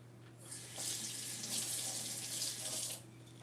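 A kitchen tap runs steadily for about two and a half seconds as a spoon is rinsed under it, a soft close hiss of water over a faint mains hum, with no talking.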